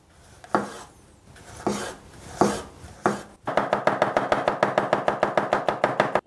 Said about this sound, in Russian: Теперь болгарский перец нарезаем тонкой соломкой.